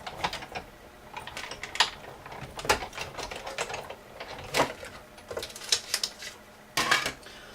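Sewing machine stitching fabric pieces for a rose, with bursts of rapid mechanical clattering and ticking separated by short pauses, close and moderately loud.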